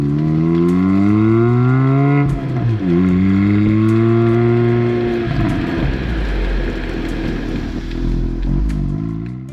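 A 2021 Kia Forte GT with a manual transmission accelerates hard, its engine note climbing through rising revs, dropping briefly at a gear change, then pulling again and fading into steady road rumble.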